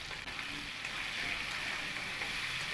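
Chunks of elephant foot yam fry in hot oil with salt and turmeric, giving a steady, dense sizzle that stays even throughout with no voices.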